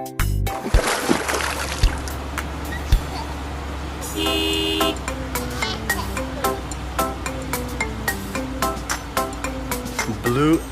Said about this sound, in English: Blue garbage truck.